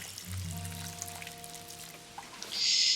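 Watering can pouring over planted berries in the survival game Len's Island, a soft splashing trickle building to a louder hiss near the end, alone with faint ambient game tones beneath.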